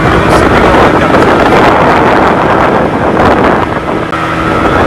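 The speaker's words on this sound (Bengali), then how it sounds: "সো এটা boat ride, speed boat ride." Speedboat ride through the Bichitrapur mangroves, with a steady loud motor roar and heavy wind rushing over the microphone throughout, water and engine noise blending into one continuous wash.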